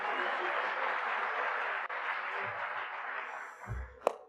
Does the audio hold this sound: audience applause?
yes